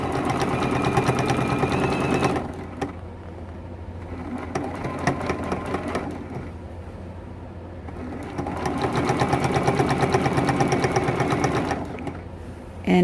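A sewing machine stitches binding onto a large T-shirt quilt, its fast, steady mechanical whir running in loud stretches that slow and pause briefly for adjustments.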